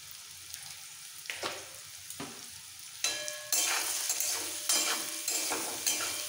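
Pumpkin pieces fry in a pan with salt and turmeric, a steady sizzle broken by scraping stirs, growing louder and brighter partway through as the pieces are tossed and mixed.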